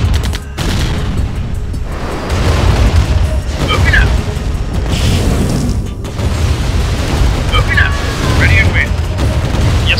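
Airstrike explosions and gunfire in a Nintendo 64 Command & Conquer-style strategy game, with a continuous heavy rumble of booms and bursts, a sharp cutoff near the start, and faint high chirping effects in the mix.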